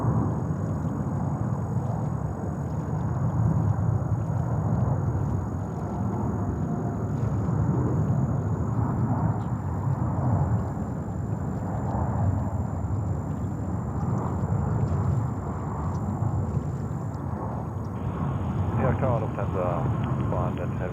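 A Lufthansa Boeing 747 rumbles at JFK airport in New York, a steady broadband jet roar held for the whole stretch, with a faint tonal whine above and a brief higher-pitched hiss near the end.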